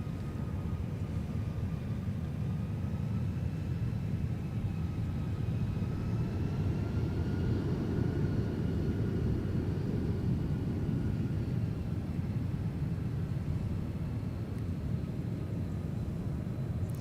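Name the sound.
Mesa Airlines aircraft pushing back for Houston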